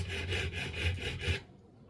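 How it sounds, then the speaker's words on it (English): A flat file is drawn over the metal point of an old engine igniter in four or five even rasping strokes, close and crisp, before it stops and falls quiet. "Get ourselves a nice beveled edge on here, nice flat surface, because we're using a flat file here."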